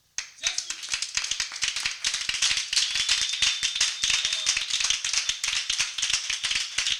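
A church congregation at a Wednesday worship service bursts into sustained, dense applause and cheering that fills the room and continues without a break.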